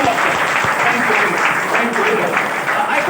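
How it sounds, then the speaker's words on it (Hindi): An audience at a success training program applauds for a participant: dense, continuous clapping from many people, fairly loud and even throughout. "एक बार गुरु कल्याण साहब के लिए ताली होनी चाहिए"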